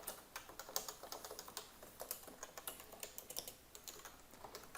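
Code being typed on a computer keyboard, a quick uneven patter of crisp key clicks, close and fairly quiet, with no talk.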